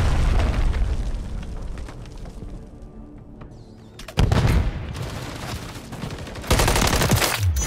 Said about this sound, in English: Friendly cruise missile approaching